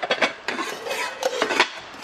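A gold anodized aluminium alloy Sunhouse SH6634 pot set, three pots in sizes 16, 20 and 24, is handled up close, giving a run of sharp metallic clanks and clinks with short rattling scrapes between them.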